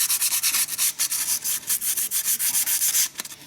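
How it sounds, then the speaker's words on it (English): Sandpaper rubs rapidly back and forth over the hub face of an Audi/VW car brake, a dense run of scratchy strokes up close and loud, ending with a few lighter scrapes. "And then I'll take some sandpaper."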